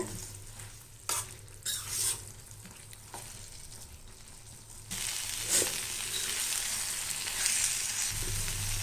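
Potato is stirred and fried in thick gravy for a poriyal, first quiet with a few scraping spoon strokes and clanks, then a louder steady sizzle that takes over halfway and holds to the end, with no talking.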